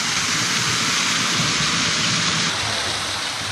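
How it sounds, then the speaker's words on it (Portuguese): Steady, dense roar of a waterfall, Cachoeira da Santa in Brazil, broadband and unbroken, with no voices over it. "Isso daqui é a Cachoeira da Santa."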